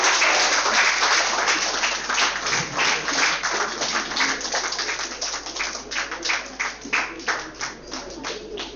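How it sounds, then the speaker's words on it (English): Applause at a college research event for the GIET journal begins as dense, continuous clapping from the audience, then thins out into distinct, sparser individual claps as it winds down. "A new round of applause for the GIET journal."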